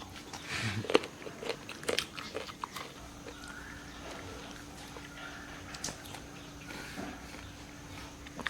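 Someone bites into crispy Thai-style bingsu up close, giving several sharp crunches in the first few seconds, followed by quieter chewing and faint rustling.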